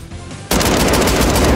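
Fully automatic shotgun fire in Modern Warfare 3 erupts after a short quiet lead-in into a dense, very loud, continuous burst of rapid blasts, close and unbroken to the end, with no voices.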